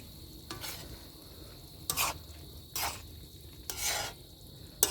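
Sautéed eggplant with pork and soy sauce being stirred in a bubbling pan, with a steady sizzle underneath and several scraping strokes of the utensil against the pan, close and alone.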